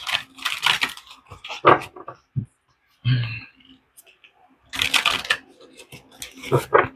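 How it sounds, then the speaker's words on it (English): Tarot cards are shuffled in quick riffling bursts, with brief clicks and soft speech around them, close and fairly quiet. "Two more shuffles"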